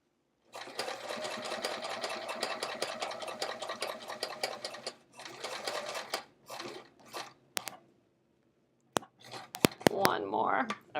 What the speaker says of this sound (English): My machine making that kind of loud noise.